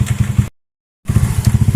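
A Honda Vario 110 scooter engine idles unevenly when warm, with a pulsing motor that surges on its own, loud and close, broken by a half-second gap of silence.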